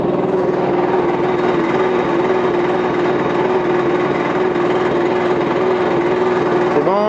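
A Mygale 500 micro excavator's small engine runs steadily on its first start, a loud, even drone close by that holds constant before a brief shift near the end.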